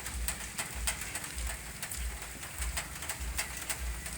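Rain falls at night at the Jami Al-Ma'ruf Lamahala Jaya mosque, a steady hiss with irregular drips and taps, alongside soft low cooing that sounds like pigeons and no talking.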